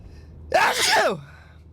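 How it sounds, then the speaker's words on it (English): A single sharp sneeze bursts out, loud and close, after a brief quiet moment. "And I got to sneeze."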